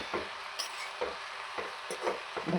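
Pumpkin greens being stirred in a frying pan, with a constant sizzle and a series of scraping, clacking spoon strokes against the pan, about five in quick succession.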